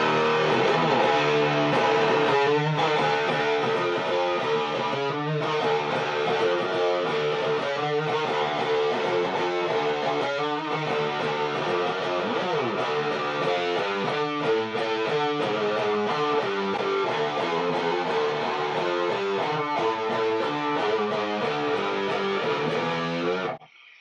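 Electric guitar driven through a vintage Big Muff fuzz pedal, playing a continuous thick, noisy and heavily distorted riff for over twenty seconds, loud and close with no talking.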